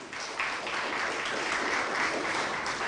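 Audience applause at a Muslim women's business awards event in Mombasa, a dense, steady wash of many hands clapping that fills the whole stretch, fairly loud and even.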